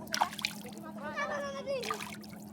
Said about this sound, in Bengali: এখানে লেগেছে, আমি ধুয়ে দিচ্ছি, আমি ধুয়ে দিচ্ছি।